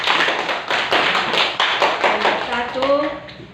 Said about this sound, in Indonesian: Berikan aplaus buat teman kita.